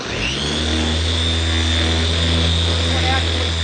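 A sander driven by a fine grinder motor, with a 45-hole pad and strong dust collection, runs as a steady, loud motor whine with a high-pitched tone throughout, under a voice.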